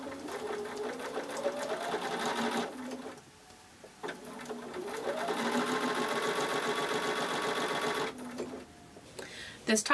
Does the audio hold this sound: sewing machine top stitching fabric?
yes